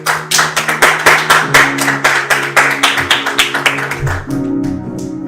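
A church congregation claps loudly at a Sunday worship service, a fast, steady run of about twenty close, sharp claps that gives way at the end to a held musical tone.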